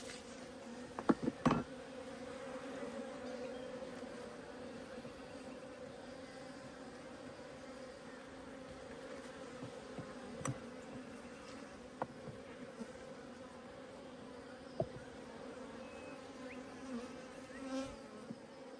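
Honey bees drone in a soft, continuous buzz at an apiary hive during a frame inspection, with occasional light clicks and handling knocks. The sound is faint and steady, and no voices are heard.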